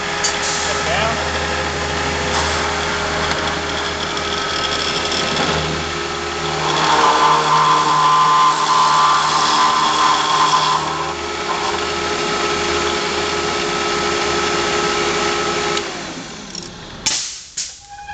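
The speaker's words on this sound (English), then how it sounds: "Turn my cutter on." An overhead cutter hums steadily after being switched on, a sustained mid-pitched motor drone with a brief louder stretch partway through, ending with clatter as it stops.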